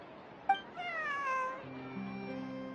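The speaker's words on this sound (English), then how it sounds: "This is my friend's cat." A friend's cat meows a few times, close and fairly quiet: a short sharp sound, then a longer drawn-out meow, and a lower sustained tone near the end.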